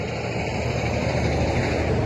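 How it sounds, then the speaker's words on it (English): Steady, dense road noise rumbles inside a moving van, a constant broadband roar with no voices or breaks. "Sorry for the road noise."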